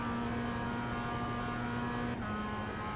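A Mazda MX5 Cup race car on a lap of VIR holds a steady, loud engine drone from inside the car, pitch barely shifting, with one brief dip near the end and no voices.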